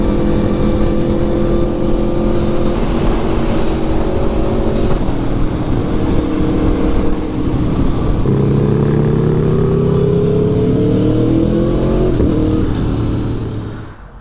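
An Aprilia Tuono V4 motorcycle with a Termignoni exhaust roars loud and close while riding, its engine note holding steady, then rising through gears, before fading at the end.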